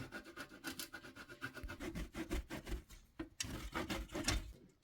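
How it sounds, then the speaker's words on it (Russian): Hard cheese, about 150 grams, rubbed against a fine kitchen grater for a layered snowball salad, giving a close, steady run of rhythmic rasping strokes with brief pauses between them. "150 грамм твердого сыра натираем на мелкой терке."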